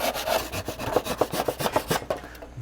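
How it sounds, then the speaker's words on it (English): A hand saw cuts through faux wood beam material in quick, rhythmic rasping strokes, close and steady, then stops near the end. "Even if you don't have any of those expensive saws, you might only have a hand saw."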